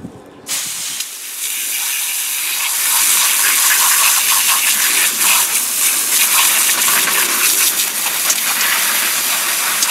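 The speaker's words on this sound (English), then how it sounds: "use water on these from the hose for right now" A garden hose sprays water onto old Everstart MAXX deep-cycle solar batteries, starting after a brief quiet moment and then hissing steadily and loudly up close, with fluctuating spattering as the stream moves across the cases.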